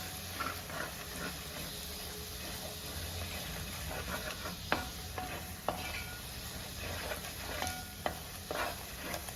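Asafoetida stirred into sizzling oil in a pan for Kerala-style onion pickle, a continuous hot hiss with occasional scraping strokes of a spoon close by.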